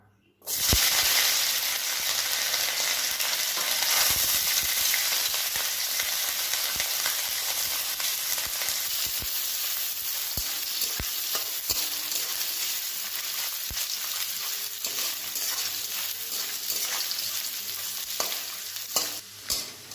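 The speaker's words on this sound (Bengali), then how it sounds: "তেলটা গরম হয়ে গেছে, এবার নারকেলগুলো দিয়ে দেবো এর মধ্যে।" Coconut pieces frying in hot oil in a wok for a Bengali chana dal dish, a loud steady sizzle running throughout with frequent clattering stir strokes and scrapes, no voices.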